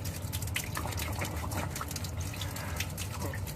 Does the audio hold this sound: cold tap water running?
yes